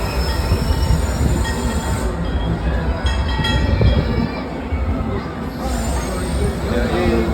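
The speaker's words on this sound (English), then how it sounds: "And here comes the train." A monorail train on the Metropolis ride at Six Flags Fiesta Texas rumbling close by with a steady roar, rattling wheels and faint high squeals, holding loud throughout.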